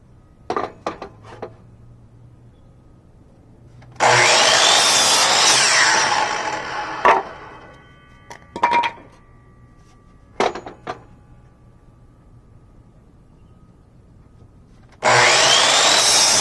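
A Porter Cable folding miter saw cuts wood, with two loud sustained whining cuts of several seconds each and clacks and knocks of handling between them, close and without talk.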